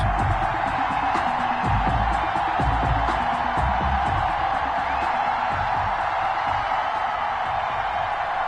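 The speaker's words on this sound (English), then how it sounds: "a moment ago they entered to the delight of this sold-out crowd" A sold-out stadium crowd in an EA Sports Madden NFL football game, Bills against Patriots, roars as a steady, dense wash of cheering that never lets up.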